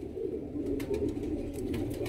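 A pair of old Ferozepuri pigeons coo in a low, steady, rolling murmur that carries on without a break, fairly close, with no talking.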